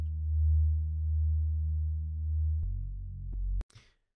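Sub oscillator in the Serum synthesizer holds a clean, steady low sine bass layer alone, slightly wavering in level, then the pitch drops for a moment before the note cuts off with a brief click.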